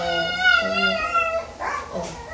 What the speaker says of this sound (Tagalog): aso namin yun